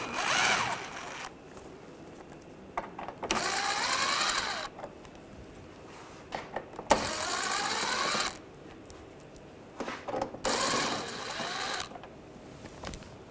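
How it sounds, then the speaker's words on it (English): A power tool with an 8mm socket spins bolts out of the front bumper cover on a 2009-2010 BMW 535i xDrive, four separate whirring bursts of one to two seconds each with quiet gaps between. "Use a 8mm socket. We're going to take some of these bolts out on the side."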